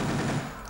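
Gunfire from a bunker shooter video game, set as a beach landing defended from a German bunker: a dense, loud burst of rapid machine-gun fire that fades into a rumbling tail within a second.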